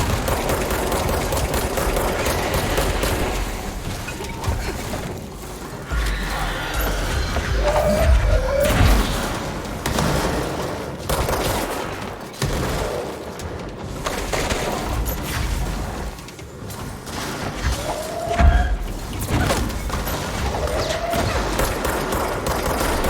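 Sustained gunfire in the video game Control, dense rapid bursts and thumps filling the whole stretch with brief lulls, loud and continuous.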